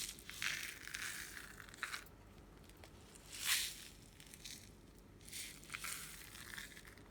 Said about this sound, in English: I'm going to be using these mirror glass, crushed mirror glass, to pour